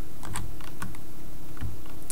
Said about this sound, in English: My keyboard is telling me that I'm pushing too many keys at the same time.